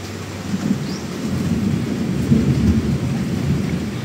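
Steady rain falls as a continuous wash of noise with a low rumbling undertone, moderately loud and unbroken throughout, with no voices.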